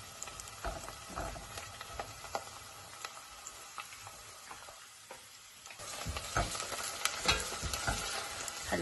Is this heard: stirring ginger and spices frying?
yes